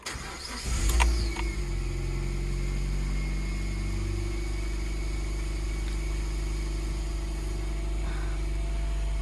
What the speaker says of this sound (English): It starts up first turn of the key.